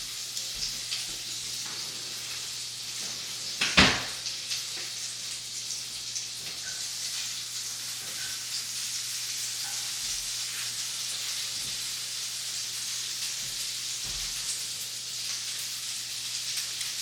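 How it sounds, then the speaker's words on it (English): Apples sautéing in melted butter in a pan give a steady soft sizzle and crackle throughout, with one sharp clatter near the start and faint stirring taps, close and even. "I'm gonna throw 2 cups of apples in there and just kind of saute them around"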